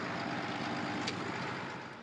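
A Case tractor engine runs steadily, heard as a faint, low, even hum from inside the cab, with no talking over it.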